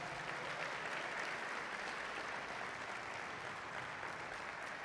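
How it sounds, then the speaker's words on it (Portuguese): Steady, dense applause from a church congregation during a Portuguese-language sermon, a continuous wash of many hands clapping at moderate distance with no talk over it. "Você pode dar uma salva de palmas ao Senhor no seu lugar?"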